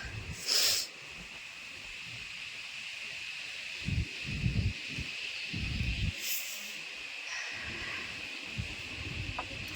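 Wind gusts through foliage in soft, uneven bursts of rustling, with a steady faint hiss in the background and no talking.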